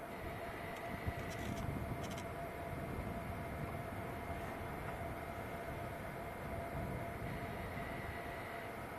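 A Virgin airliner climbs away after takeoff from Manchester Airport, heard as a steady, broad jet roar that holds at an even level throughout with no voices.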